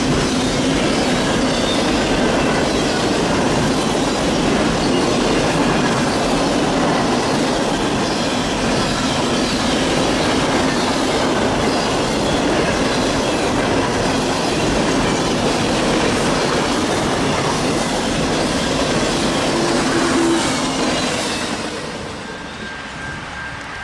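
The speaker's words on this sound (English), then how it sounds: "These trash trains can be extremely smelly, especially when you're trapped between one and a wall." A Norfolk Southern trash train rolls past close by on the Fort Wayne Line. It makes a loud, continuous rumble with clattering wheels and some squeal for about twenty seconds, then eases off at the end.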